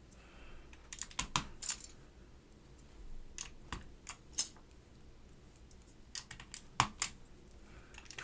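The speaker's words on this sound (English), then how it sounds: "I'm just putting on all the gray keycaps first because that just makes life a little bit easier." Plastic gray keycaps snap onto a Northgate Omnikey 101-N keyboard in sharp, close clicks, arriving in small irregular clusters separated by quiet pauses.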